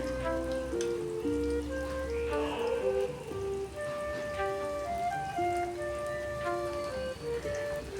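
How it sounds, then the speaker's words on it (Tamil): Ginger garlic paste sautéing in a pan: a continuous crackling sizzle like light rain, steady throughout, with music playing over it and no talking. "இஞ்சி பூண்டு பேஸ்ட்டு போட்டு நல்லா வதக்கி விட்டுறணும்"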